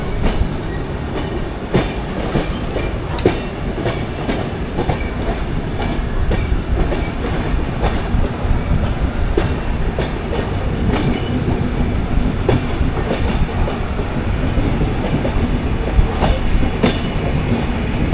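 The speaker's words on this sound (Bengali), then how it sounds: "আমাদের ট্রেন এখন প্রবেশ করছে সাঁতরাগাছি জংশনে।" Kantabanji Ispat Express rolling steadily along the rails near Santragachi Junction, with continuous rumble and repeated clickety-clack wheel beats over rail joints, loud and close throughout with no voices.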